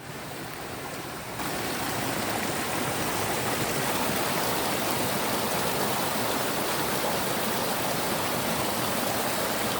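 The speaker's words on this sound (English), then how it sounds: "a creek down here" Steady rushing water of a creek near Rollins Pass, Colorado fills the scene, a constant close wash of noise that swells slightly after the first second.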